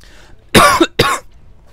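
A person gives two quick, sharp coughs close to the microphone, separated by a brief pause, with quiet background around them.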